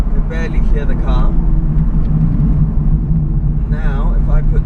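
An Aston Martin accelerates without sport mode, its engine a low, subdued rumble that stays steady throughout while people talk over it.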